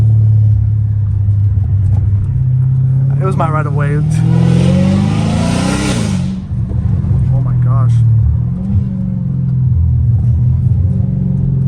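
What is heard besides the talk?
Hellcat Redeye with catless catback exhaust, loud engine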